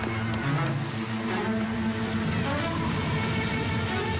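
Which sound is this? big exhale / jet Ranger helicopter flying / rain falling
rain falling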